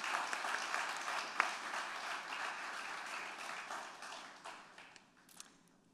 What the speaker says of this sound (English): thank IBEI for the hard work with a round of applause